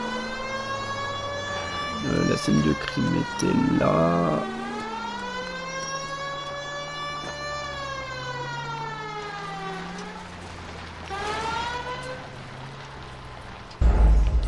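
Old-style police car sirens wail in a roleplay video game, a loud rising and falling tone sweeping up and down over several cycles, with a brief line of speech partway through.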